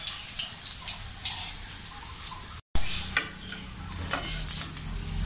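Chicken lollipops fry in hot oil with a steady sizzle and crackle, briefly cut off by a short gap partway through, along with some stirring and wet clinks, close and fairly loud with no talking.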